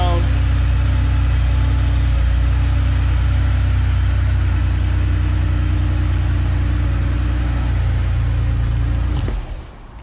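A 1985 Porsche 911 Carrera's flat-six engine runs loud and steady up close for about nine seconds with a deep, even tone, then cuts off abruptly near the end.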